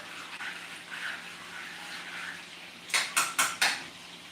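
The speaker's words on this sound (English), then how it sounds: "as you attempt to stir your macaroni so everything can melt" A pot of macaroni and cheese over low heat is stirred with a utensil: faint scraping at first, then four distinct, evenly spaced clinks and scrapes of the spoon against the pot near the end, with no talk.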